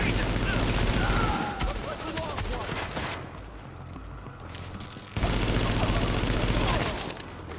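Gunfire in The Division video game: sustained, loud bursts of automatic rifle fire and rapid shots, briefly easing off before heavy firing resumes.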